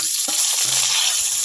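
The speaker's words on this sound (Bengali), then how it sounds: "আলুগুলো লাল লাল করে ভেজে নেব।" Thinly sliced potatoes with a little turmeric and salt fry in mustard oil in a wok, giving a loud, steady, close sizzle with faint stirring knocks.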